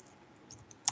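Keys on a computer keyboard are tapped, a few light clicks ending in one sharper keystroke, close and brief in a quiet room.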